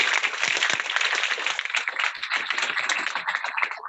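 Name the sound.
audience clapping for Sandeep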